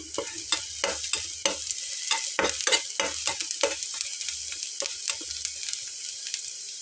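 Spiny gourd frying in a pan gives a quiet sizzle under a rhythmic run of close spatula scrapes and stirring strokes, with no talking.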